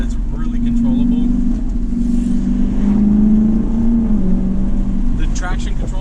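A 2008 Lexus IS F drones loudly and steadily from close by as it slides sideways, with its engine holding a sustained rumble throughout.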